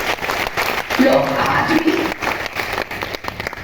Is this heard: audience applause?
yes